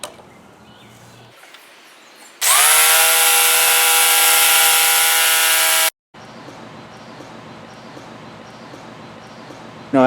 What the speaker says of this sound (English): Also, I'm using a jigsaw for this. It's an easier way to cut it.